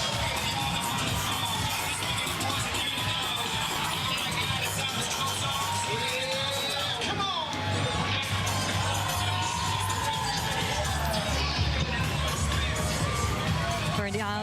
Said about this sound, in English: Let's listen in as they get the crowd going here.